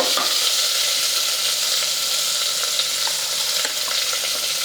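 Sliced onions and curry leaves fry in a pan with a steady, close hiss and crackle that stays constant throughout.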